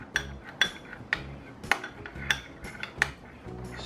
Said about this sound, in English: Stir that up real good